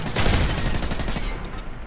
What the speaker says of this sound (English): I'm getting shot by some fucker with an LMG with a thermal on it